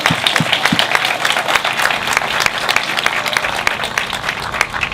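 Dense audience applause at a congressional campaign speech in California, loud and continuous, with many hands clapping together throughout.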